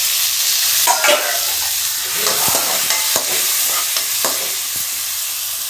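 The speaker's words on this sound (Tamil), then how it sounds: "சும்மா வாசனைக்கு ஒரு பச்சை மிளகாய் போட்டால் போதும் நல்லா வதங்கும் தக்காளி போட்டுக்கலாம்" Tomatoes and a green chilli fry in hot oil for an egg curry, giving a loud, steady sizzle broken by light stirring scrapes and taps on the pan, close up with no speech.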